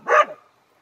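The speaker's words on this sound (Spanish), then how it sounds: "Y arriba está el otro perro" One short, close bark from a dog, loud and sharp, then a quick fade into silence.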